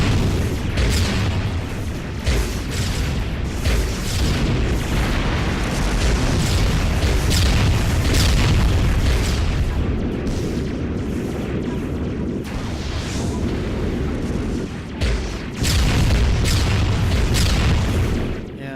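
Missile launches and explosions from the video game Novastrike sound as a continuous barrage of heavy booms and blasts. Loud, rapid impacts overlap for almost twenty seconds with no talking.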